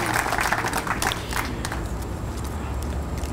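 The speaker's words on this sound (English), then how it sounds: "Let's hear another round of applause for all of them." An audience at the Deputy Governor's Employee of the Year Award Ceremony gives a round of applause, dense clapping that is strongest at first and then thins out into a softer, steady patter.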